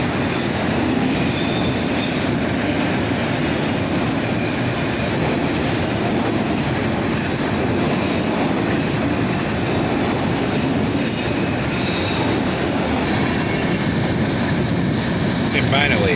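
Long CSX and Union Pacific freight train with center beam cars rolling past close by, a loud continuous roar of wheels and rail clatter with occasional squeals, sustained throughout.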